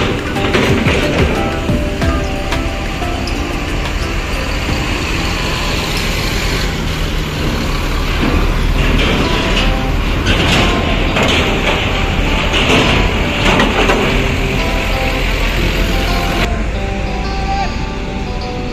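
An ANS intercity bus on the Sumbar–Jakarta route, nicknamed Puncak Lantik, pulls in with a loud, continuous engine roar and road rumble. Broadband traffic noise fills the whole stretch.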